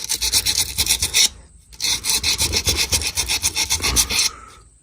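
Hand sanding with sandpaper on a leaking surface, a rapid back-and-forth rasping in two close, loud bursts separated by a short pause.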